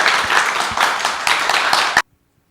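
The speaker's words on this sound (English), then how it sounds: "Let's give him another round of applause." Applause from an audience at a Grandparents' Tales reading event, a dense burst of clapping lasting about two seconds before cutting off abruptly into silence.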